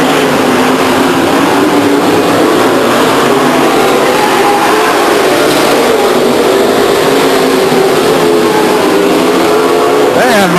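Stock cars race around Stockton 99 Speedway, a dense, loud, continuous engine roar with shifting revving pitches from several cars passing, a commentator's voice running over it.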